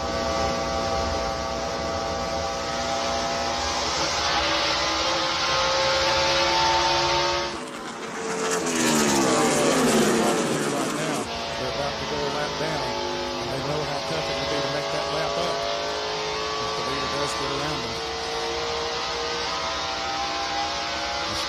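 NASCAR stock cars in the 2000 Mall.com 400 roar at speed in a steady, droning onboard engine tone, with a brief louder whoosh mid-way as another car passes, under broadcast commentary.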